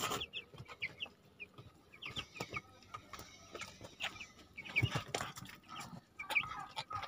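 Broiler chicks in a pen cluck and peep in scattered short calls, close and fairly quiet, with soft rustling between them; a sick chick's wheeze is not clearly distinct.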